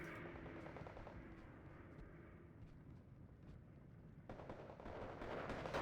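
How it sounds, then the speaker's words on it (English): A Potez bomber's rear turret machine gun firing in the World War II strategy game Steel Division 2, faint rapid rattling bursts over a continuous engine drone, with a louder, denser stretch of fire near the end. "So the Potez does get hit, and he's firing back with his rear turret"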